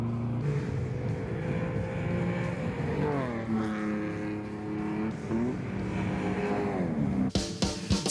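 Cars racing on a track, including a Mercedes and a blue Ford Escort: a sustained, loud engine drone rises and falls through gear changes as cars pass, ending with a sharp burst of noise.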